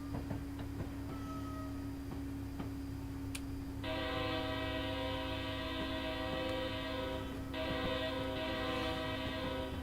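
A Class 390 electric train in a train simulator game passes with a steady low hum, joined midway by a bright, layered tonal whine that holds before briefly dipping and resuming.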